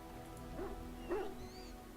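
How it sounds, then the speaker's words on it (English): A dog in the Dragon Age: Origins game camp gives two short, soft yips or whimpering barks about half a second apart, moderately close over a quiet ambient hum, with no talk. "Zevran, dog, you barking at something?"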